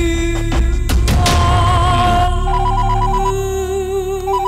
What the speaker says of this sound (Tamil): நான் ஃபோன் பண்ணல, ஃபோன் வருது.